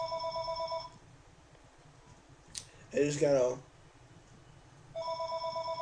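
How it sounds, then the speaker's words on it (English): A telephone rings in repeated electronic trills, fairly faint. It stops while a person speaks briefly, then starts ringing again at the end. "Sorry, the phone's ringing."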